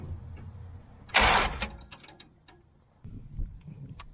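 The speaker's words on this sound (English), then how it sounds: "So that means I got to bump the motor over." A Dodge Dart engine gets a brief bump from the starter, one short loud mechanical whirr and clunk, then quiet clicks and a softer rumble of handling parts nearby.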